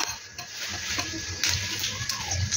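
White cumin seeds hit hot oil in a pan and set off a steady, close sizzle with light crackles and a few sharper pops, with no one talking.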